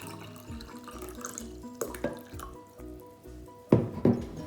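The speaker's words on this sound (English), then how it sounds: "First, you're going to fill up a tall drinking glass about 3/4 full of water." Water pours into a tall drinking glass, a close trickle and splash that grows louder near the end as the glass fills, with no talking.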